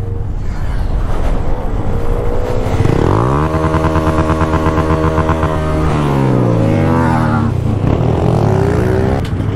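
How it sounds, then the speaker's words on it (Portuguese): Motorcycle engine at a wheelie stunt event in Morada Nova, Ceará, loud and close, idling roughly and then revving hard in rising and falling sweeps, with a second climb late on. "Eita, que é moto, menino."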